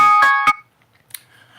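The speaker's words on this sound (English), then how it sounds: "Uh-oh, that's my alarm." Two quick, bright electronic alarm beeps sound close and loud, then cut off into near silence with only faint low background noise.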